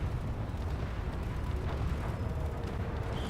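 Ship weapons fire in the video game Space Engineers, a dense, continuous rumble of booms and blasts layered over one another at moderate loudness, with no clear gaps.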